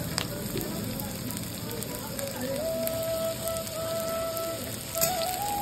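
Chopped onion sizzles and crackles in hot oil for a Bengali kalo masoor dal tadka, a steady close frying hiss with faint tonal kitchen sounds, while someone talks over it.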